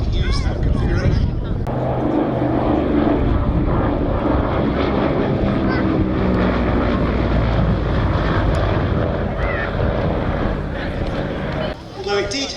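An Avro C19 Anson, a twin-engined monoplane, flying with a loud continuous propeller-engine drone that holds steady throughout, with a voice talking over it.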